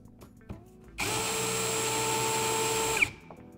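A power driver fitted with a T30 Torx bit whines loudly and steadily for about two seconds against a damaged screw that will not turn, with faint clicks before and after.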